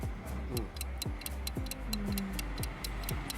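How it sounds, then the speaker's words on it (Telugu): A stopwatch ticks steadily and close by, roughly three ticks per second in an even rhythm, with a low hum underneath and no talking. "స్టాప్ వాచ్ ఆన్ చేయి"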